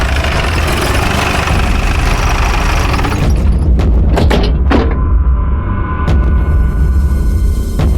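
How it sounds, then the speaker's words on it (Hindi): A motorbike belonging to a man named Vilas, standing in a forest area, gives a steady, close engine rumble throughout, with a few dull thumps partway through. "ये तो विलास की बाइक है।"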